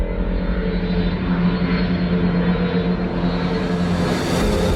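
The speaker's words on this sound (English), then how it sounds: "I'm out here to catch the 777X. It's coming in momentarily for the Dubai Air Show." A Boeing 777X airliner arriving at Dubai Airport for the Dubai Air Show, heard as a loud, steady engine roar with a low rumble that holds continuously throughout, with no talking.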